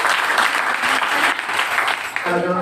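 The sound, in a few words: applause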